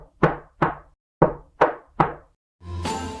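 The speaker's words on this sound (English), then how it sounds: "they heard a knock at the door." Five firm knocks on a wooden door in an uneven rhythm, close and crisp, each ringing out briefly, followed by a short burst of another sound at the end.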